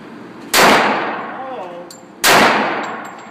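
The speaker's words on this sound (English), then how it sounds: "now I want you to do 2 shots to the chest" Two sharp, loud gunshots at a shooting range, about two seconds apart, each a sudden crack followed by a ringing decay.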